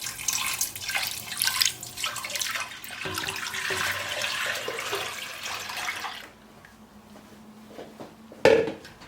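Milk poured from a container into a wide bowl holding 125 grams of butter, a continuous liquid splashing and gurgling for several seconds, then a brief quiet followed by a short clunk of the container.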